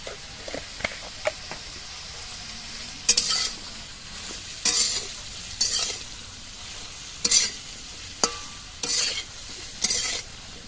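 Salted ridge gourd sizzles in a pan under repeated spatula strokes, sharp scraping stirs recurring every second or two over a steady close frying hiss, with no talking.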